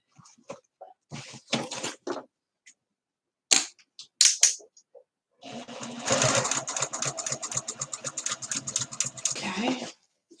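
Sewing machine stitching the unfinished corner of a project, a few short starts and stops first, then a steady rapid run of needle clatter for several seconds, close and alone without talk.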